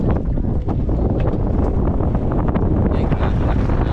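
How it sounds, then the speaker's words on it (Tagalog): Strong wind buffets the microphone in a loud, continuous, gusting rumble that never lets up. "Ay, lakas ng hangin ako."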